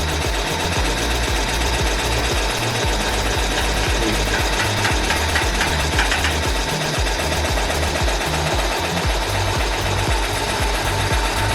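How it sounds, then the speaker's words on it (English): A multi-needle embroidery machine stitches a 3D puff foam design onto a cap, a loud rapid mechanical chatter of needle strokes in a fast steady rhythm throughout, close and continuous. "now you can see the machine is moving all the way back to the 7th needle, because that's what we're using. So it's starting"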